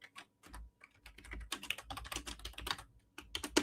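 Rapid irregular clicking of computer keyboard keys as a comment is typed, close and quiet, in short bursts with brief pauses.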